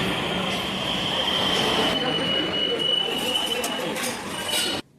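Loud, sustained metal wheel squeal from a Kolkata Metro train arriving at Esplanade station, a steady high screech over rumbling carriage noise, cutting off abruptly at the end.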